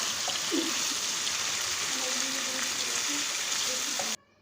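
Boneless chicken frying in two tablespoons of oil, giving a steady, close sizzle with a few soft stirring clicks, cut off abruptly near the end.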